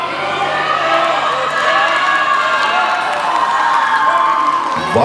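An audience cheers and claps steadily at the Fitness Classic 2023 bodybuilding competition in Vantaa, a dense crowd roar that runs the whole time, with an announcer talking over it.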